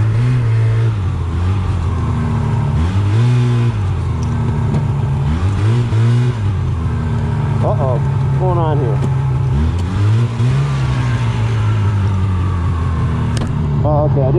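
Ski-Doo Skandic snowmobile engine revving repeatedly in high gear, a loud close rumbling motor rising and falling in surges with a few brief squeals, nearby voices partly over it.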